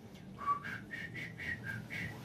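Someone whistles a short tune of about seven sustained notes in a steady rhythm, faint and somewhat distant over low background noise, and a voice imitates the whistling.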